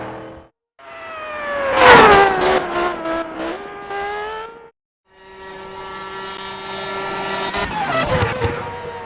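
Ferrari F2004 Formula 1 car engine in the mobile racing sim Gran Velocita, a loud high-revving scream that climbs through gears, cuts out briefly, then resumes and builds again toward the end, with no talk.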